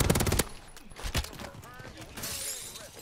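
Shooter video game gunfire: a fast burst of close rapid shots at the start, then scattered single cracks and distant firing under excited player chatter.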